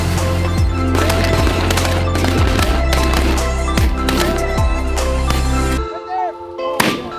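Shotgun blasts ring out while hunting mallard ducks in Kansas, several loud sharp reports spaced through a steady rumbling background, with a few more distant shots near the end.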